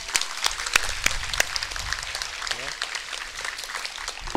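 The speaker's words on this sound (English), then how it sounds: "Can we give them a round of applause," An audience at a school May Day event gives a round of applause, scattered claps and crowd noise that sound outdoor and somewhat distant, with voices and other commotion mixed in.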